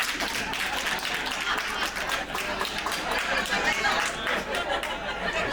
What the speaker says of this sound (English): Give me a clap if you're here with somebody dumber than you.